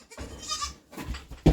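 Baby goats bleat on a farm, several short wavering calls close to the microphone, ending with a loud, sharp bleat.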